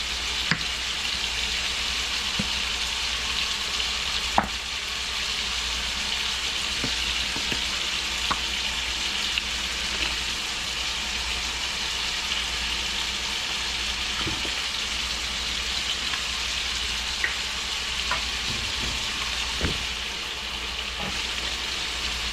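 A pan of sauce made with rice vinegar and ketchup heats toward a near boil, giving a steady soft sizzle and bubbling hiss throughout, with occasional light clicks and utensil taps.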